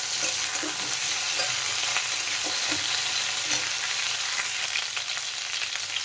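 Potatoes and cauliflower frying in a pan for a Bengali besan fritter dish, giving a steady, dense sizzle that runs throughout with occasional soft scrapes of stirring, close and continuous with no voices.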